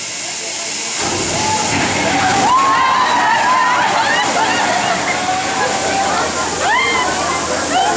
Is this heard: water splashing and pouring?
yes